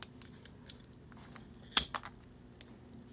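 A Roy pre-gouger guillotine slicing through a wide piece of material, giving one sharp cutting snap followed by a few softer clicks against a low steady background hum, with no talking.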